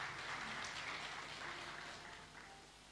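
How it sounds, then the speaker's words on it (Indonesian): Congregation applauding during a Sunday church service, a faint, soft wash of clapping from many hands that fades slightly toward the end. "Tepuk tangan buat Tuhan."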